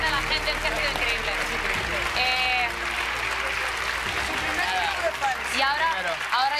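A Got Talent studio audience rises in a standing ovation, steady loud clapping filling the room with crowd noise, and a host talking over the applause.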